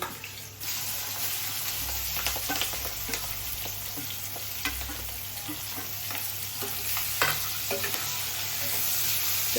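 Onion, green chillies, garlic and curry leaves fry in a pan for a fish curry, a steady close sizzle with scattered stirring scrapes and clicks running throughout, with no voices.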